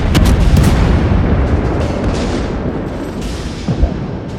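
Warship guns firing a salvo in the World of Warships naval game: a loud, dense booming barrage at the start that rolls and fades into a long rumbling tail, with a smaller thump near the end.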